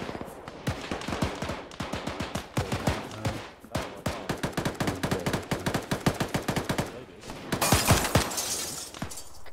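Rapid gunfire echoes through a building in the Arma 3 video game during a police hostage raid, mixed with glass shattering. The shots are loud, close and sharp, coming in quick bursts and single cracks, with a burst of breaking glass near the end.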